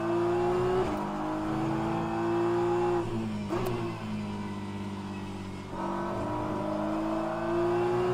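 A BMW GT3 race car engine in a racing video game replay at Spa drones steadily with harmonic tones, its pitch dipping and climbing around gear changes, loud and continuous with no talk.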